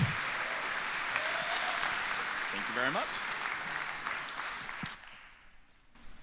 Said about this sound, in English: Round of applause for Alex, please.